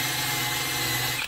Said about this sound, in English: this is just a wire wheel on a drill